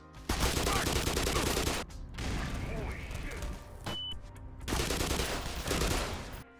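Soldiers firing guns in the Half-Life remake Black Mesa: long loud bursts of rapid automatic gunfire, a brief lull with scattered shots and clatter, then another sustained close volley.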